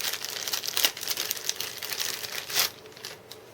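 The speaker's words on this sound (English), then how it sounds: "let's just open it from this plastic packaging" Plastic packaging is pulled open around accessories from an Olympus E-520 DSLR camera box, giving close crinkling and rustling with a few sharper crackles and no speech.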